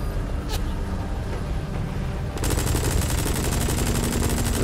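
Rapid, continuous automatic gunfire from a helicopter in the video game Metal Gear Solid V: The Phantom Pain suddenly starts over a loud engine rumble, a dense rattling burst that keeps going steadily to the end.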